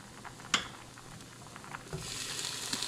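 Butter sizzles gently in a pan for a roux, a faint, steady crackle with a couple of soft clicks, quiet and close, no talking.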